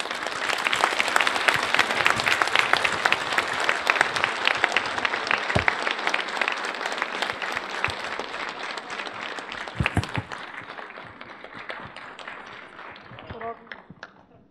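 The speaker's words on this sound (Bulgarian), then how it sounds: "наистина ви моля с ръкопляскания да поздравим" An audience at a company anniversary ball breaks into sustained, dense applause that fills the room, then gradually thins out to a few scattered claps toward the end.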